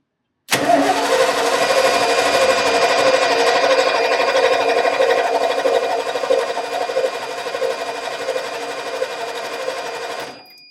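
A 1989 Ford F-150 pickup engine cranks steadily for about ten seconds with a dense, buzzing mechanical whir, loud and close, without catching, then cuts off abruptly.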